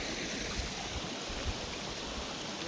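A rain-swollen mountain stream rushes beside a road in a steady, dense roar of water, constant and fairly close, with no talking.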